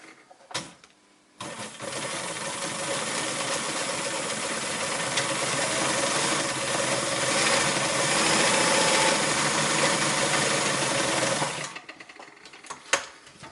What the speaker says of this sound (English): we'll just sew another bar track as close to that seam as we can get